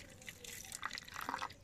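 Water is poured over rock salt in a plate while preparing egg bonda. It makes faint trickling and dripping splashes, soft and close, with small irregular bursts of liquid and no talk.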